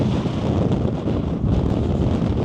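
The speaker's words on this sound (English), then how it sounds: "it's just too windy at the moment" Strong wind buffets the microphone on a coastal path at Filey, a continuous loud rumbling gust with surging swells and no voices.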